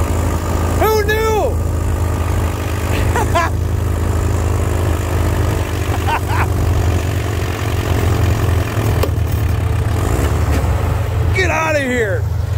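An antique pulling tractor's engine rumbles loud and steady throughout at an outdoor tractor pull in Lanark, Illinois, with excited voices shouting over the continuous drone.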